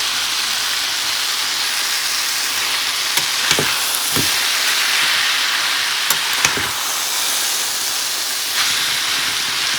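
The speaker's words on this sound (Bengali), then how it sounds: "এর মধ্যে দিয়ে দিচ্ছি পাস্তা। অল্প অল্প করে দিয়ে অল্প অল্প করে মিশিয়ে নিই।" Drained pasta being stirred into cooked vegetables in a home kitchen pan, with a steady steamy sizzle and hiss throughout and a few soft scraping knocks from the utensil, close and alone without talk.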